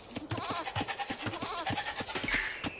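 Sheep in the Age of Empires II video game bleat in a quick run of overlapping, wavering calls, close and loud, with a faint game sound effect near the end.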